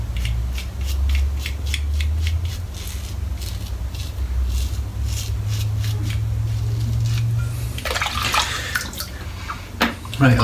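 Running water splashes steadily under some low voice and shuffling as a face is rinsed off after a shave with a Philips OneBlade, with a brief burst of louder splashing near the end.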